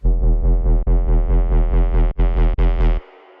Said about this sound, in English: And then I have this evolving bass group sound like this.